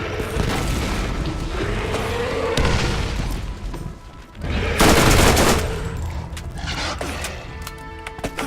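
SMG gunfire in Borderlands 1, with a Tediore Bone Shredder: rapid, loud bursts of automatic fire over dense game noise, peaking in a heavy burst midway, then continuing more sparsely.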